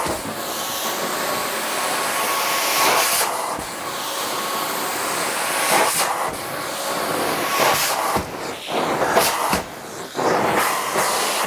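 A carpet cleaning machine fitted with a Devastator swivel head wand works soiled carpet at a resort, giving a steady loud hiss and whoosh with a few brief dips and surges as the wand moves.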